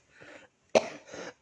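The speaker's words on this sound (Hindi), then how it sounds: "ये तकलीफ वाली खांसी नहीं है, आप निश्चित रहें।" A man coughs several times in a short rough series, close and fairly faint, with a sharper hacking burst in the middle.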